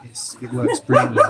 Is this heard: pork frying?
no